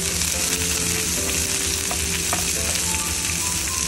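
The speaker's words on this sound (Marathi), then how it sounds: "कांदा एकदम मस्त गोल्डन ब्राऊन होईपर्यंत भाजून घ्यायचा." Sliced onions and chillies fry steadily in hot oil, a loud, dense, continuous sizzle with a few faint clinks of a spatula, no voices.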